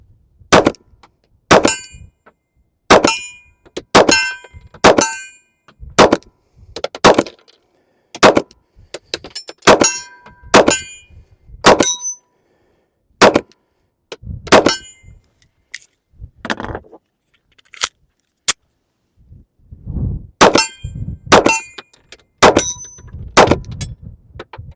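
An S&W Bodyguard 2.0 pistol fires ball rounds at steel targets, each loud close shot followed by a ringing metallic clang, spaced shots at an irregular steady pace with a few pauses.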